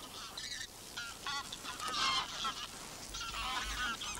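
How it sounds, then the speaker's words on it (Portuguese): Wild geese honk in the Volga delta, a flock calling over and over at a distance, fairly faint against open outdoor background noise, with no voices. "A maioria destes são gansos selvagens."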